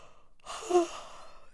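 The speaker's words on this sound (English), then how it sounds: "I actually need to yawn right now." One long, breathy yawn from a woman during a deep-breathing exercise, starting after a short pause and swelling to a close, voiced peak before fading out, with no other sound.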